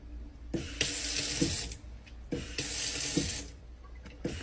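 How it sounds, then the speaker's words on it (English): A Bluetooth faucet runs water into a sink in two strong hissing bursts with a short pause between them, close and loud with no talk. "you have to tap the faucet to turn it on"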